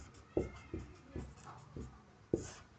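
Handwriting on paper, a few distinct scratchy pen strokes close by, spaced unevenly over a short quiet stretch.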